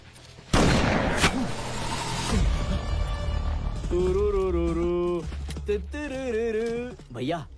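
A sharp, loud gun blast during a wild boar hunt, followed quickly by a second crack, then a sustained wavering tonal sound that carries on to the end.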